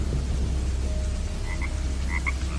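Frogs croaking amid steady heavy rain and wind in a village at night, a few short paired croaks standing out over the constant hiss of rainfall.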